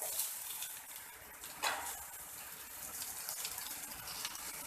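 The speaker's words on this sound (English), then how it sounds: "and let it saute nicely" Diced onion and peppers sauteing in a pan with onion and garlic, giving a steady soft sizzle and crackle throughout, with one brief louder hiss partway through.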